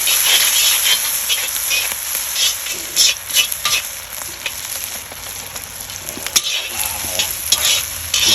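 Food sizzles and crackles loudly in a Lodge wok over a Weber charcoal grill, with scraping stir strokes and clinks of a utensil against the hot metal throughout.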